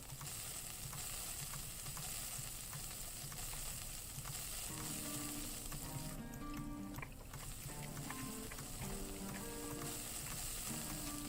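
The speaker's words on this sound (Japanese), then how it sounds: "肉焼きなら任せてくれ" Meat sizzles steadily on a grill in a yakiniku simulator video game, a continuous crackling fry with faint clicks and stirring noises throughout, fairly quiet and with no talk.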